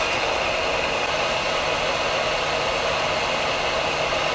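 A heat gun blows steadily while heating a metal part to break a Loctite threadlocker bond in a shop, a constant loud broadband hiss and whir with no breaks and no voices.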